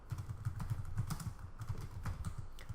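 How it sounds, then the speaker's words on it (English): Fingers typing on a computer keyboard, a rapid, continuous run of close, soft key clicks lasting a few seconds with no voice. "We will type our name"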